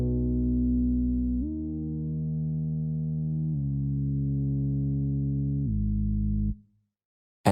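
Dry synth bass in a Cubase project with no effects, playing four long sustained low notes that step from one pitch to the next, smooth and steady, then cutting off into silence.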